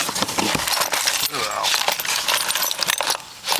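A ring of keys jangles at an outdoor auction in Illinois, bright metallic clinks and rattles in quick irregular bursts, close and fairly loud against a busy crowd background.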